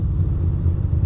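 Heavy city traffic between Red Hook and Williamsburg heard from a motorcycle lane splitting: a deep, continuous rumble of engines and road noise, loud and close, with no clear breaks.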